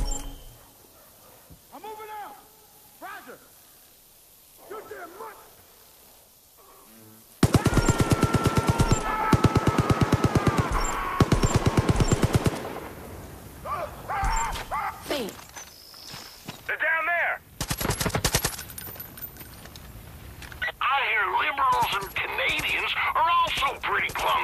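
In Far Cry 5, rapid bursts of automatic gunfire crackle loudly and repeatedly over several seconds, with scattered shots and footsteps around them and voices speaking between and over the firing.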